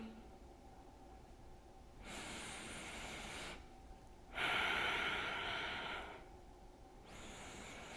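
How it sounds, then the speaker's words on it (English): Deep, steady breaths drawn in and blown out during a seniors' resistance workout, slow alternating inhales and exhales at a measured pace, close and soft with no talking. "Exhale to come up, inhale to come down."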